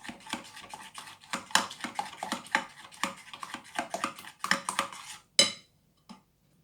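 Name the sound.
stirring a gelatin mixture in a bowl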